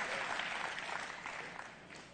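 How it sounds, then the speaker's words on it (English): A church congregation claps together in a dense, even burst of applause that carries through without a break, with no voices over it. "Give God a big clap."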